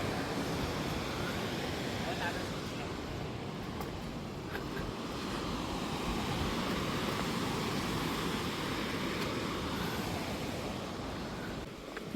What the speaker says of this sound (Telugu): అబ్బా అలలు అయితే సూపర్